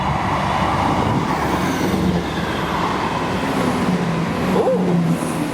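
A pair of Class 158 diesel trains passing South Gyle station, a loud steady rumble of engines and rolling wheels close by, with faint rail squeals and clanks throughout.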